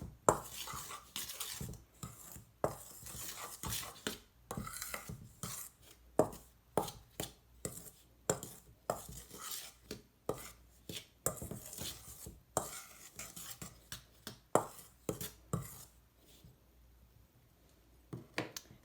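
Repeated clinks and scrapes of a utensil stirring baking soda and cornstarch in a bowl, a steady stirring rhythm with small pauses, close and fairly quiet.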